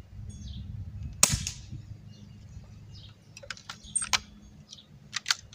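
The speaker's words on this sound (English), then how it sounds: "Cock and then pump, or it won't hold air." A BB gun being cocked and pumped gives a sharp metallic click followed by a series of short mechanical clacks and taps, close and alone over a low background hum.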